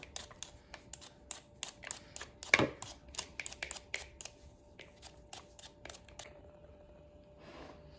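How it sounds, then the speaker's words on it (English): Potatoes for latkes are peeled with quick, repeated scraping strokes at close range, a steady run of short rasps that fades near the end into quieter rustling. "So we're just gonna start peeling."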